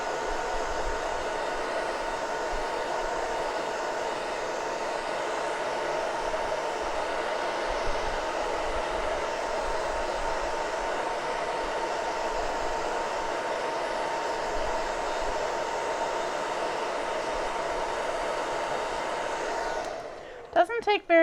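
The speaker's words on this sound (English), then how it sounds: "I am going to hit it with the hairdryer really quick, so forgive me for the noise" A hair dryer blows on a freshly applied chalk transfer, giving a steady, even whirring roar for about twenty seconds before it cuts off abruptly at the end.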